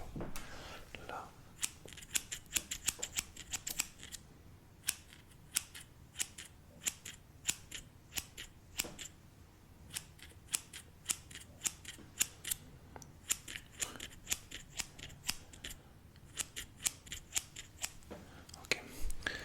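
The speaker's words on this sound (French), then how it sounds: "laissez-moi faire le haut cette fois-ci avec ces ciseaux." Close, crisp snips of scissors cutting hair during an ASMR haircut, rapid bursts of clicking blade strokes with short pauses between runs, soft and intimate over a quiet background with faint whispering.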